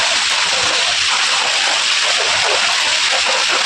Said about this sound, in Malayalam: അപ്പോൾ ഇതാ ഇവിടെ മഴയാണ് കേട്ടോ